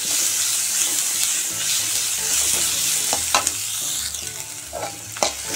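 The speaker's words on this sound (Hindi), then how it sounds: "ये अनियन हमारा जो है थोड़ा सा भून चुका है, सौते हो चुका है।" Onion sautés in a pan for poha, giving a steady close sizzle and frying hiss with occasional stirring clinks and scrapes, alone without talk.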